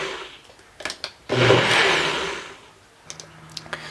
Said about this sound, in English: I'm gonna bring out the blender again, and I'm gonna give it a quick stir